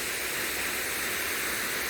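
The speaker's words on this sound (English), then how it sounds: "We got the waterfalls" Waterfall pouring beneath an old bridge with original ironwork and aged wood, a steady broadband rush of falling water filling the air continuously, fairly close and even in level, with no voices.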